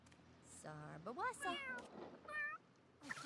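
A cat in The Sims 3 meows several times while being bathed, drawn-out, rising and falling cries with short pauses between them, close and clear with light talk mixed in.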